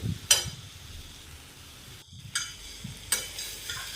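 Chow mein noodles being stirred and fried in a pan, with soft sizzling underneath and a few sharp scrapes of the utensil against the pan, close and fairly quiet.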